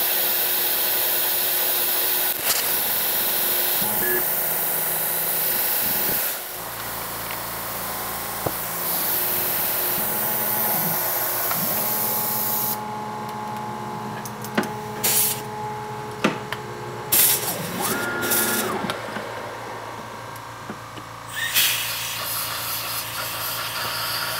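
A machine tool cuts a chamfer on TalonGrip low-profile edge jaws, giving a long continuous grinding, whirring cut with shifting tone and occasional clicks and knocks as the tool enters and leaves the metal, with no talk.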